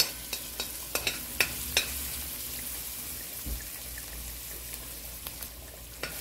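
Onion and garlic fry quietly in a pan, giving a faint, steady sizzle with a few soft crackles and light tapping stirs scattered throughout.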